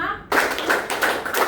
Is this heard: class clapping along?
yes